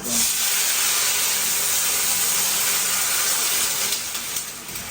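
A steady, loud hiss of tempering spices sizzling in hot oil runs unbroken throughout, close up and bright, easing slightly toward the end.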